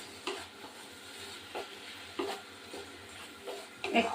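A prawn and taro leaf curry with coriander leaves is stirred in a pan: regular scraping strokes of a spoon against the pan over a quiet, low sizzle, ending with a slightly louder clatter.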